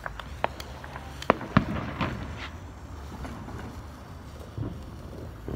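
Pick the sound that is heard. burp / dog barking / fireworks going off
fireworks going off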